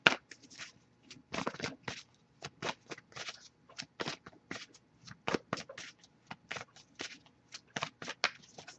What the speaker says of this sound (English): I'll shuffle for a bit more, see if we get anything